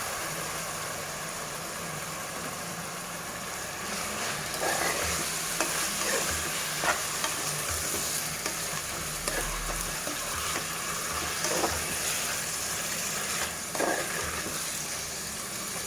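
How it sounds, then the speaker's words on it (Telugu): Mutton kheema sizzles and fries steadily in hot oil in a pan, a continuous close crackle broken by scattered stirring scrapes, with no talking. "వేగిపోయింది కదా, నూనె అంతా విడిపోయింది. ఇప్పుడు మనం ఈ కైమా వేసేద్దాము."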